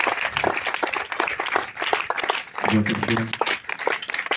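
A congregation at a revival church service applauds in an offering of acclamation, rhythmic clapping mixed with loud speech and shouting voices, with a brief sung or hummed tone partway through.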